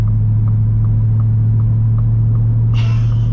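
Deep, steady engine rumble from a 2023 Ford Raptor R pickup, held close and loud and continuous, with a brief brighter whine entering near the end and no one talking.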